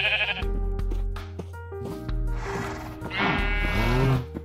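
Sheep bleating in the video game Minecraft, several clear, close bleats in a row over game background tones, with no talking.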